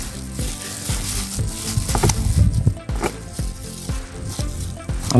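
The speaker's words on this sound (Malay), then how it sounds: "Hancurkan dia punya perut." A sardine's belly crushed by hand for crab bait while fishing at the waterside, giving close, wet squelching and crackling with repeated soft impacts over a steady hiss.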